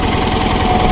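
A 1979 Case Ingersoll 446 garden tractor engine runs steadily and loudly close by, a constant rumbling drone with no pauses.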